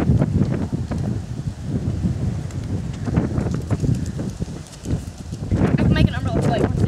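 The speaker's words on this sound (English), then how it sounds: "Do not use umbrellas in wind whatsoever." Strong wind blows an umbrella away outdoors, heard as a rumbling buffet of gusts against the microphone with sharper flapping bursts near the end.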